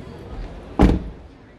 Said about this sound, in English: Yeah, I'll close the door.